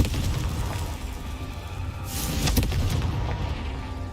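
In Hogwarts Legacy, a Confringo fire-blast spell goes off as a muffled boom with a burst of crackling debris over a dense, rumbling game soundscape.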